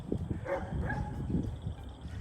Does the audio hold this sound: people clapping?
no